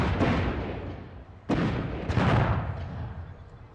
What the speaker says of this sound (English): Those explosions sounded like they were in an enclosed space.